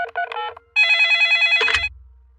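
Cartoon telephone ringing in a Peppa Pig episode, a bright electronic warbling ring heard in a couple of quick bursts, close and clear, followed by a faint low thud as it ends.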